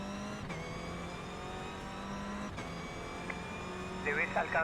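Race car engine in iRacing, a sustained droning motor note with shifting pitch as it holds and changes speed, ending with a brief squeal-like burst.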